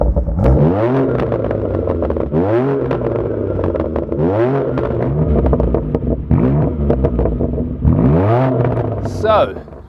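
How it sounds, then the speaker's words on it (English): A BMW M2 Competition fitted with a Milltek exhaust revs loudly nearby in a series of sharp rising throttle blips, about five in a row, each falling back between pulls. "we have our now Milltek exhaust equipped BMW M2 competition. M2 RSR, take it away."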